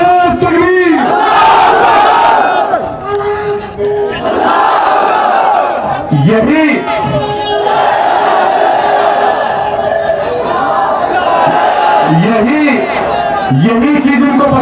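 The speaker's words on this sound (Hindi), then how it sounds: "तो जोर से नारा लगाइए, नारे तकबीर।" A large political rally crowd in Jaunpur loudly chanting the slogan Nara-e-Takbir in repeated rhythmic waves, a massed roar with rising cries between chants.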